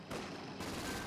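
Game gunfire from a Company of Heroes 2 match, a steady wash of distant small-arms and machine-gun fire in a battle involving Royal Engineers and Wehrmacht squads, continuous and fairly faint with no voices.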